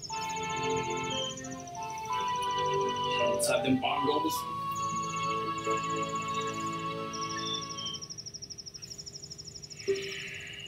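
Snow crickets chirp in the video game Zelda: Majora's Mask, a high thin trill that comes and goes beneath game music and sound effects while someone talks over them.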